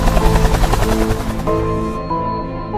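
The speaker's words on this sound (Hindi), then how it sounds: "हेलीकॉप्टर की आवाज सुनकर सारे लोग ऊपर देखने लग जाते हैं।" A helicopter in a video game flies overhead with a loud, close, pulsing rotor thump that eases off and thins toward the end.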